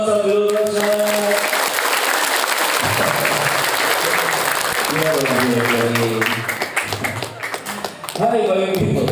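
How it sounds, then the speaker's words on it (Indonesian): Pesantren students at a motivational seminar applaud loudly and continuously, a thick wash of clapping mixed with amplified talking and musical tones over a sound system. "tepuk tangan buat Sabilul Rasyad"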